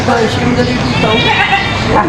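Goats bleat amid a busy livestock market where live goats are being weighed and sold, their cries mixed into dense crowd noise and close conversation.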